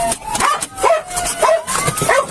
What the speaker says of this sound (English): If you run, the dog's coming!